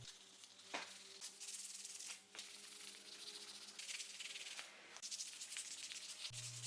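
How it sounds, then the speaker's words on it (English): Hand sanding of primer on MDF with 400 grit sandpaper gives soft, steady rasping strokes in a regular back-and-forth rhythm, close and fairly quiet, with no talking. "grab some 400 grit sandpaper, and we're going to lightly sand the primer on top"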